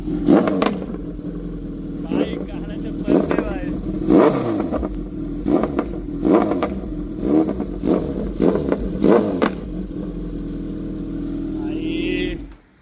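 A G900 motorcycle, apparently a top model, revs hard in repeated bursts close by, its engine roaring up and down with clattering mechanical tones over about a dozen seconds, with people talking now and then.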